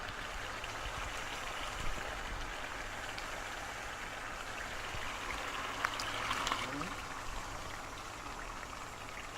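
Water pours steadily into a pot of down-home chili mac for about two cups' worth, a soft continuous trickle and splash at close range, building slightly toward the end.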